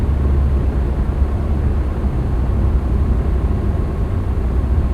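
An airplane rolling on the runway after landing in the X-Plane 11 flight simulator, a steady low engine drone with broad rushing noise, loud and unbroken, with no other sounds.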